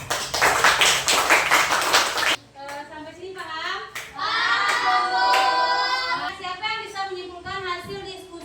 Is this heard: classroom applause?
yes